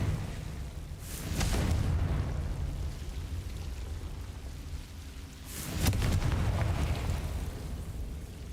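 Two heavy blasts from the Confringo spell in Hogwarts Legacy burst out several seconds apart, each a broad rumbling boom that settles back into a steady low ambient roar.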